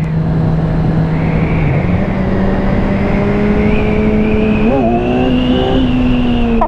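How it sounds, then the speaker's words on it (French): A 2017 Kawasaki Z1000R motorcycle engine hums steadily at speed on the road, pitch holding then rising briefly with a throttle blip, heard close and loud with wind noise throughout. "Ah, le moteur des Z1000, c'est génial."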